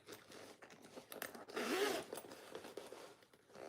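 The top zipper closure on a small handmade crossbody bag is pulled in one quick, close, rasping stroke amid faint handling rustles.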